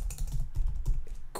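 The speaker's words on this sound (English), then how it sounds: "in here we're gonna be typing in print line" Rapid typing of programming code on a computer keyboard, a quick, irregular run of close, crisp key clicks and thumps heard on its own.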